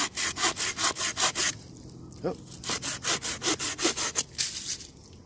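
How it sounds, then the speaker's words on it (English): A hand saw cuts through wood outdoors during primitive fire-making, with steady rhythmic rasping strokes, fast at first, then a brief pause before the stroking resumes, close and clear without talk. "I'm just letting the saw through the wood"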